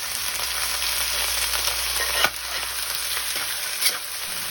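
Chicken liver and gizzard sautéing in a pan after wilted onions, a steady close sizzle with scraping stir strokes and a couple of sharper clinks, no voices.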